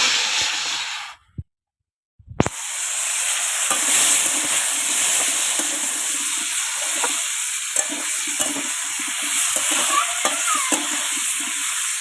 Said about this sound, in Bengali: এটা একবারে এক ফোড়নে বসিয়ে দিলাম তরকারিটা